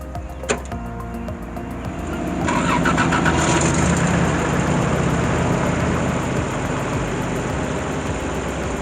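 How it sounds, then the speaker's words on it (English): A Toyota Land Cruiser engine cranks briefly, fires and settles into a steady, loud idle that runs to the end, with no talking. "I have to start the cruiser because you want to run the air compressor while the cruiser is starting."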